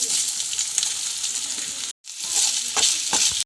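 Spices fry for sambar in hot oil in a home kitchen, giving loud, close, steady sizzling and crackling that stops briefly partway through and then resumes.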